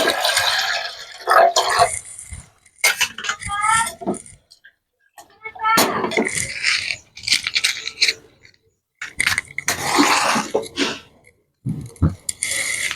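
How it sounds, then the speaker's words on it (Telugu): Water is poured into washed toor dal in a pot before boiling in a village-style kitchen, giving close splashing bursts with metallic clinks between short pauses while a person talks. "ముందు దీన్ని కొంచెమైతే నీళ్ళు వేసుకొని"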